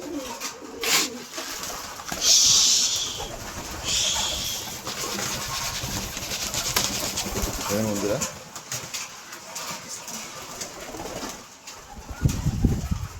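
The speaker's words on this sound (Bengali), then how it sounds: "দেখতে পাচ্ছেন সমস্ত কবুতর নাইমা চলে আইছে" Flock of pet pigeons gathered at a feeding spot and cage, soft repeated cooing and occasional rustles close by, with someone talking over them.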